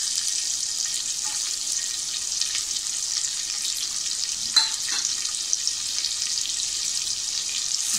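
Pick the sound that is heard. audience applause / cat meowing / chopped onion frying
chopped onion frying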